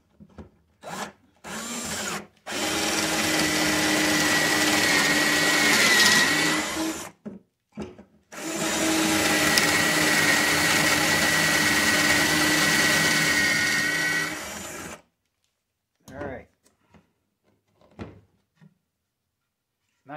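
Power drill boring pocket holes into wood through a pocket hole jig: two long, loud whirring runs of several seconds each, preceded by short bursts and followed by quiet handling knocks, with no talking.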